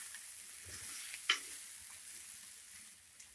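Ingredients for mixed sprouts sambar frying in a pan: a steady, fairly quiet hiss of sizzling with a single sharp clink of a utensil partway through.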